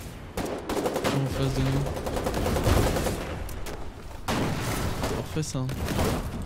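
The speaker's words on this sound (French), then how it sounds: "Je tire sur un pattern de bunker base" Heavy gunfire in the Foxhole video game pours onto a concrete bunker base, loud rapid bursts and rattling shots close by, broken by brief pauses, while French voices talk over it.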